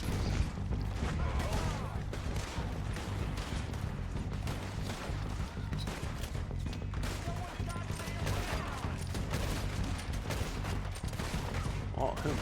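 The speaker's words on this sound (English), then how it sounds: "who's shooting right there?" Dense, continuous gunfire from the video game Red Dead Redemption 2, a loud, steady barrage of shots and impacts filling the whole stretch, with a player's voice occasionally mixed in.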